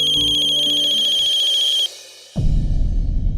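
A phone ringtone plays a steady repeating electronic melody for almost two seconds, then cuts off and gives way to a rough low rumble.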